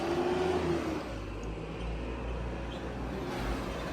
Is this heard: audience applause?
no